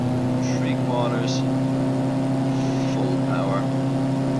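A simulated Ikarus C42 light aircraft engine runs at half to three-quarter power on runway 27 in FSX, a steady droning hum under intermittent quiet talk.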